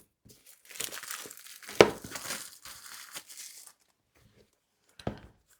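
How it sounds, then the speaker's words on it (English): Plastic bag packaging from a Shokz OpenFit Pro earbuds box being opened by hand, with close, irregular crinkling and tearing in bursts, a louder crunch midway and a short final rustle after a pause. "So we're gonna have to go through this plastic bag first."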